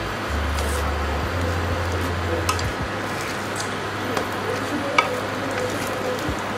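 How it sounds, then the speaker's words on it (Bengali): Slices of suji-coated bread toast fry in a pan with a steady, even sizzle throughout, broken by a few faint scrapes and taps of a utensil against the pan. "একটু এভাবে চেপে চেপে দিবেন যাতে ভালো করে ভাজা হয়ে যায়"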